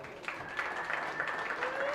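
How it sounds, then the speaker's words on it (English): Spectators at a county goat show applaud the exhibitors of middleweight goats, moderate clapping over the moment, with faint voices and a tonal whine in the background. "Let's give them a round of applause."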